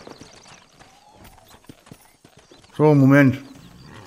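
Quick hoof clops from Red Dead Redemption patter beneath a short spoken German phrase, then a brief loud horse whinny bursts out before fading.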